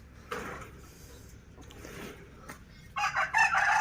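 Chickens in a backyard coop: soft rustling and faint clucks, then a rooster bursts into a loud, close crow over the last second.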